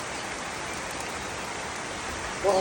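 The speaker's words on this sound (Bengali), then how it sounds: "বৃষ্টি নামতেছে তো" Rain comes down at a large crocodile farm in Bangladesh as an even, broadband wash of hiss, with a brief voice breaking in at the very end.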